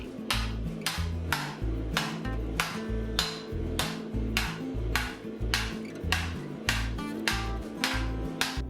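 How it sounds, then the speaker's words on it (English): Steel hammered over a raising stake in silversmithing style, shaping a Mandalorian armor shoulder piece: a steady series of about twenty loud, close metallic blows in an even rhythm, each ringing briefly, with no talk. "I'm hammering the piece of steel into the pocket of air"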